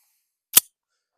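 A single sharp, loud shot from a 1911 pistol firing a 115 grain Blazer round at a shooting range, a brief crack that ends almost at once.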